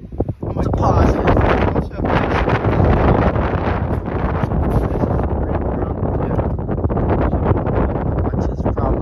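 Wind gusts steadily across a frozen lake during ice fishing and buffets the microphone with a loud, continuous roar, while a person talks over it.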